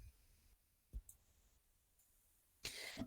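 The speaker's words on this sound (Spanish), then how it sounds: "permítanme que se me pase la tos." A single short cough bursts out near the end after a quiet stretch, preceded by a couple of faint clicks.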